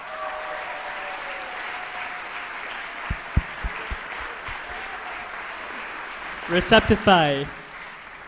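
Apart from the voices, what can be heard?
audience applause for competition winners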